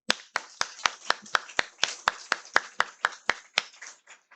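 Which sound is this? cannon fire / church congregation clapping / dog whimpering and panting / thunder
church congregation clapping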